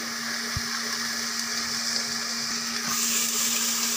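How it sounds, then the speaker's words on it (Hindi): Onions and ginger fry steadily in a pan for a gravy-style aloo matar gosht, a continuous close sizzle with a faint steady hum beneath and a couple of soft clinks, no voices. "प्याज फ्राई हो रहा है, अब हम इसमें अदरक डालेंगे।"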